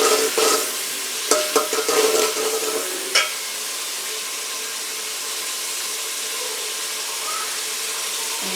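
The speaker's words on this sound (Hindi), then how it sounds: "साथ में अच्छी तरह फ्राई हो जाएगा।" Crushed ginger and green chilies frying in hot oil for chickpea pulao, a loud steady sizzle with a few clinks and scrapes of stirring early on, then continuous hissing alone.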